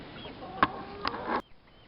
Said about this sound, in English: Now here are our meat chickens.